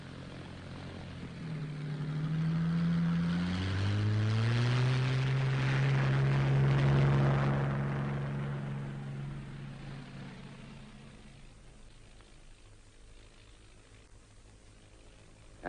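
A 1942 Fleet Air Arm propeller training aircraft opens its throttle for takeoff, the engine note climbing and droning loudly before fading steadily as the plane pulls away.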